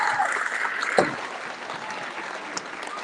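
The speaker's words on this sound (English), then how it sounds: "let's give a big round of applause to everybody" School awards ceremony audience clapping, a sustained round of applause with a sharp louder clap near the start and steady dense clapping throughout.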